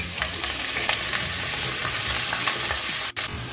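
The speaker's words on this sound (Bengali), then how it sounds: "এখন আমি পেঁয়াজ কুচিটা দিয়ে দিচ্ছি।" Chopped onion frying in hot oil for a dhaba-style chicken fry masala, giving a loud, steady sizzle with light stirring scrapes and no talking.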